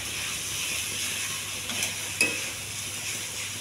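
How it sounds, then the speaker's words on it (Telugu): Mango rice made with brown rice being stirred in a pan on low flame, a soft steady hiss with faint scraping and one sharper clink near the end. "అడుగట్టుకోకుండా సిమ్లో పెట్టి కలపాలి"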